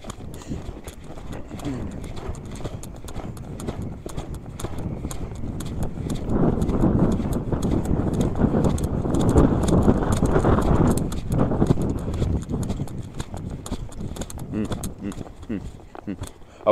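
Hooves thud in a steady three-beat rhythm as a ranch horse lopes a fast circle in a training session, growing louder as it passes close by mid-clip, then fading as it moves away, with tack rattling faintly.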